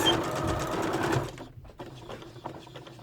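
A sewing machine stitches back and forth across the corner of a homemade fabric face mask, running as a loud, steady whir for just over a second before stopping. Quieter handling noises and faint clicks follow.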